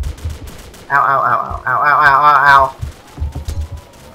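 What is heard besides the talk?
hip-firing M21 rifle in ROTU video game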